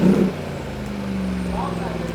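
Twin-turbo V8 of a 2016 Mercedes-Benz G63 AMG idling with a steady low drone after a short louder burst at the start, while someone talks over it.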